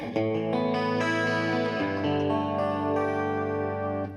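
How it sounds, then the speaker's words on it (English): A chiming electric guitar on a clean setting plays a few ringing chords with a shimmering, slightly chorused tone, sustaining cleanly with no voices. "You have a clean sound setting"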